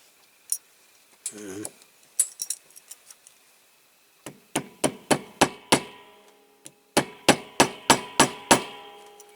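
A small hammer taps an axle onto a worn Corgi Toys Ford Zephyr police motorway patrol car. Sharp, close metallic taps fall in two quick rhythmic runs after a few scattered knocks.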